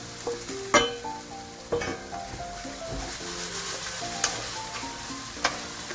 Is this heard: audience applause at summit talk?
no